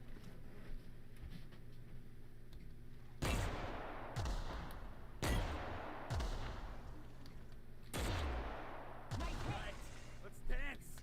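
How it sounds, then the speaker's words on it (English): A grenade launcher firing in The Outer Worlds, four heavy blasts spaced a couple of seconds apart, each a sharp boom with a rumbling tail over quiet game ambience. "see what we can do with the grenade launcher"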